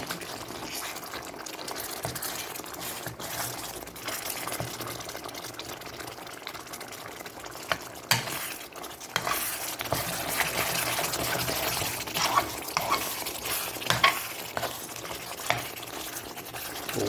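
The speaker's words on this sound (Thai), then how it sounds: "เนื้อย่างไปผัดกับพริกแกงกับกะทิ" Grilled beef being stir-fried with curry paste and coconut milk in a pan, a steady close sizzle and stirring scrape with liquid bubbling throughout.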